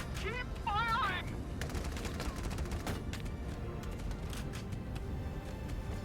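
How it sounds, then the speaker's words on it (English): Battlefield gunfire from the tactical war game Valkyria Chronicles 4, a dense, steady fusillade of rapid shots and machine-gun rattle running throughout, with brief synthetic game tones near the start. "The enemy's returning fire!"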